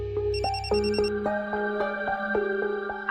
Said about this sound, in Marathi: जेसीचा फोन खूप दिवसांनी आलाय.